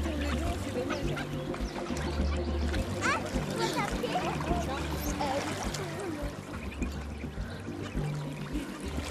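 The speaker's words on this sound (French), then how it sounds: "S'éclabousser fait partie du jeu et de l'apprentissage." Young goslings splash and paddle in water, giving irregular close splashes mixed with soft honking and quacking calls, while a voice speaks over the scene.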